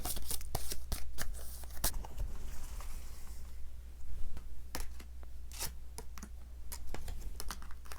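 Tarot cards are shuffled and drawn close by at a low level: quick papery flicks and soft slaps in irregular bursts over a faint, steady hum.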